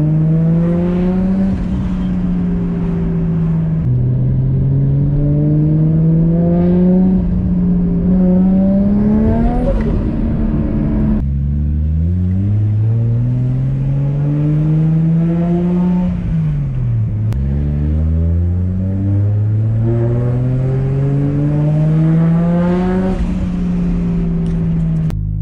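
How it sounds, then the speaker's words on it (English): Nissan Skyline R33 with a built RB25DET turbo engine, heard from inside while driving: a loud, steady exhaust drone rising and falling through several gear pulls and revs, with wind noise underneath and no talking. "I love this exhaust note so much."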